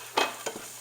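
Corn is stirred into caramelized shallots in a pan, giving two short scraping swishes with a faint sizzle underneath, close and fairly quiet.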